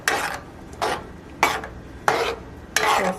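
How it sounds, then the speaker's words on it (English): Spoon strokes stirring arroz moro with cilantro and coconut milk in a pot, five distinct scraping swishes at a steady rhythm, close and moderately loud with quiet gaps between. "Now that that's starting to bubble a little bit, I'm going to add my cilantro right on top. And then I'm going to mix it."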